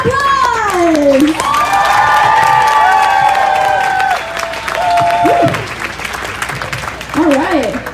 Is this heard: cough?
no